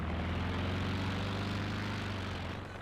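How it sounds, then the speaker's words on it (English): Propeller aircraft flying over the battlefield in Company of Heroes 2, a loud, steady droning engine roar that fills the whole moment and fades slightly at the end. "these aircraft are starting to fly off the map"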